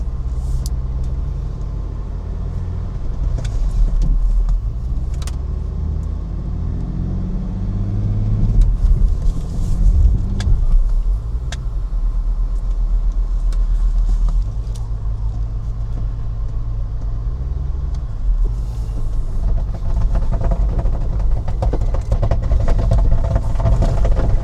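Range Rover TD6 rolling along on a small spare tire, its steady engine and road rumble loud and close throughout with mild surges in revs, no talking.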